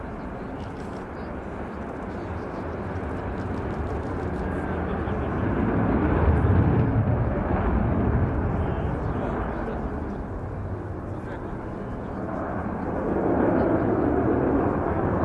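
Avro Vulcan B2 XH558 delta-wing bomber at an airshow flying display, its broad engine roar swelling and fading continuously over about fifteen seconds while a commentator talks over it.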